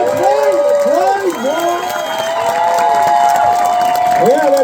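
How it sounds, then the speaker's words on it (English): Crowd at a live comedy show cheering and clapping loudly, with whoops and shouted voices riding over steady applause close by. "I need a big round of applause right now for one Ms. Yev Sturdivant."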